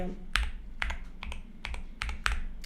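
Typing on an Akko YU01 resin mechanical keyboard, about eight distinct key presses in an uneven rhythm, each a close, crisp clack with a low thock, no talk.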